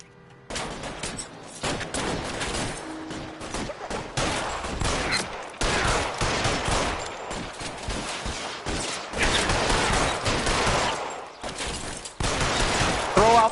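Sustained gunfight in L.A. Noire: rapid volleys of gunshots and machine-gun bursts crackling loudly and nearly nonstop, with a few brief pauses and occasional voices beneath the shooting.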